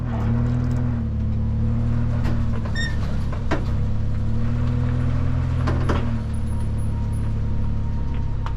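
A pickup truck drives along with a steady low engine drone and road rumble heard from inside the cab, with a few faint clicks and knocks.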